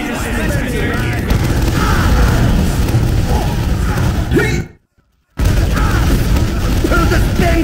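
Explosions in the video game Team Fortress 2 during a Demoman versus Demoman bot battle, booming continuously and loud with dense gunfire-like bursts under shouting voices, cutting to brief silence before the chaos resumes.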